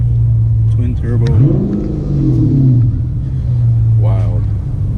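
A car engine rumbles and revs through a twin-turbo exhaust, rising and falling in pitch, with people talking over it nearby.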